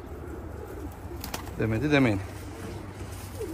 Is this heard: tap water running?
no